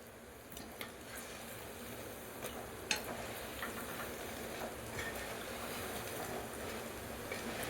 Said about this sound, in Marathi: आता तेलामध्ये या वड्या टाकायच्या आहेत आणि चांगल्या दोन्ही साइडनेही लाल होईपर्यंत तळून घ्यायच्या आहेत।